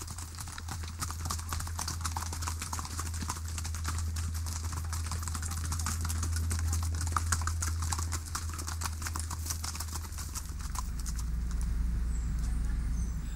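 Horses' hooves clip-clop steadily along a riding trail in the Dominican Republic near Jarabacoa, a continuous rhythmic patter of several hooves with a low hum underneath and no talking.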